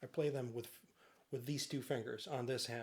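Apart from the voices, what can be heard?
No distinct noise like a dog, phone or traffic.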